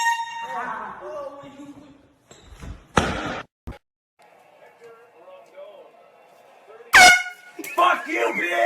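Air horn blasts in a prank, a sharp loud burst cutting in among excited voices and short bangs, followed by startled shouting.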